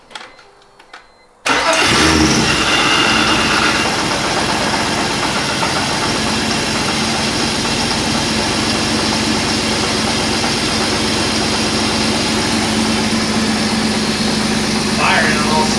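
A 3.0 six-cylinder engine in a cheap drift car cranks and fires after a short quiet moment, then settles into a loud, steady, slightly rough idle close by for the rest of the time.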